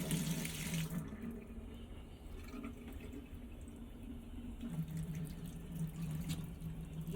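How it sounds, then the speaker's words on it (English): Water runs steadily from a sink tap during a hand-washing demonstration, a soft continuous stream with no voices. "I turn on the water, but make sure it wasn't splattering"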